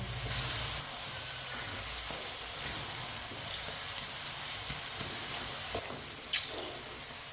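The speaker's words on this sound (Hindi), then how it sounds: "मटर को मैंने 3 मिनट के लिए फ्राई कर लिया है, मटर और गाजर को" Peas and carrots frying in a pan, a steady soft sizzle and hiss throughout with occasional faint clinks and one sharp tap near the end.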